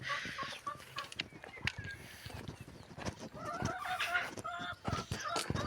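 Hens in a small home yard cluck in short, irregular bursts against a quiet background, close by but fairly soft, with no talking.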